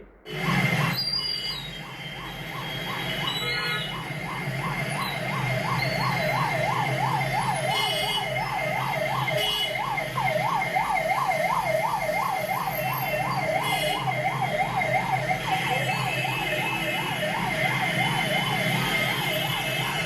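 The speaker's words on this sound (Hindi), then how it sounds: "दरिया को चीरते हुए एम्बुलेंस हॉर्न बजाती हुई रेंगती नजर आई" An ambulance siren wails in a fast rising-and-falling cycle, loud and fairly close, over the low rumble of road traffic crawling through flooded Delhi streets, with no talking.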